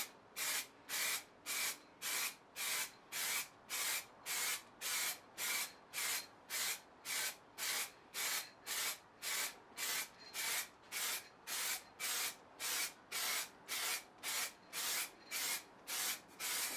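First coat of white paint sprayed onto a Yamaha R6 motorcycle tank with an aerosol can, heard as a steady rhythm of short hissing bursts, about two per second, close and even, with no talking.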